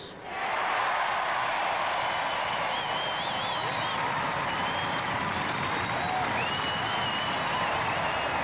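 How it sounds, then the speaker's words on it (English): An audience claps and cheers for robot builders at a combat robot competition, sustained dense applause from start to finish with a few whistles rising above. "I think we need a, a big round of applause for all the Roboteers."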